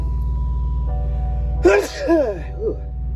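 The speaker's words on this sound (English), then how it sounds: "I have to sneeze." One close, sharp sneeze bursts out over a steady low truck engine drone, followed by a couple of short breathy vocal sounds.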